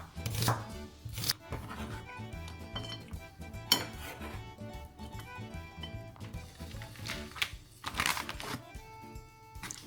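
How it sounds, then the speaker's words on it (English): Knife chopping through onions, tomatoes and mozzarella for homemade pizza toppings, a steady run of crisp close cuts on a board with occasional clinks of utensils and dishes, no voices. "So any onions, tomatoes or veg that you're going to put onto it, slice up now along with your mozzarella"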